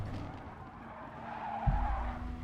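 Race car tires skid and squeal while cornering under braking at Brands Hatch in Gran Turismo Sport, a steady engine drone underneath with a low thump swelling near the end.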